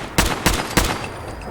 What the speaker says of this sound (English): Where are the bullets coming from?